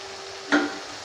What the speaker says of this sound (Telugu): ఆ ముక్కలు వేసేసాయి ఇప్పుడు ఈ టమాటా ముక్క కూడా రెండు నిమిషాలు మగ్గనిద్దాం